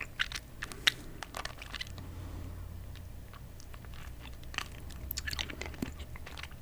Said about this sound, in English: I might have to just crunch it.